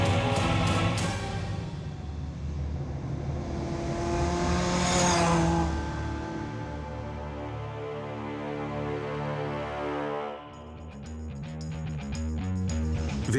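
A Caterham lightweight sports car accelerates hard, its engine note rising and sweeping through the gears in a loud, close, continuous roar, with a brief dip before revving resumes.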